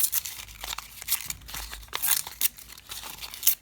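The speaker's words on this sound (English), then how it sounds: "And now we're just gonna crinkle up the rest of it. And just kind of rip pieces like this." Paper being crinkled up and ripped into pieces, close and crisp with irregular crackling bursts and short tearing rips, no voices.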